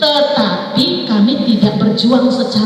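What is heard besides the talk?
None of the usual background noises is heard.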